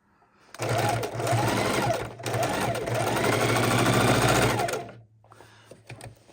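A sewing machine stitches an art roll in two steady bursts of rapid, buzzing needle motion separated by a brief pause, then stops, leaving a faint low hum and small mechanical clicks.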